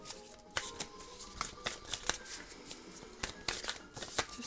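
A deck of Wild Unknown Spirit Animal cards is shuffled in soft, continuous riffling with crisp flicks and slaps of card edges, close and quiet, with no talking.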